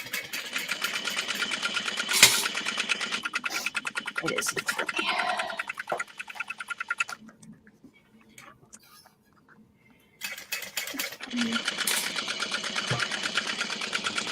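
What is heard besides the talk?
sewing machine top stitching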